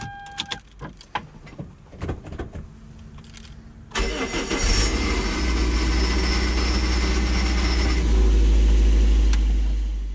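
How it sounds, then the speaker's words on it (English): A Toyota MR2 Spyder with the 1ZZ engine cranks over, catches and settles into a loud, steady idle, with the OS-Giken racing clutch adding a rattle. Keys jingle and small clicks sound just before the start. "That's the OS-Giken clutch. You can hear it rattling a lot."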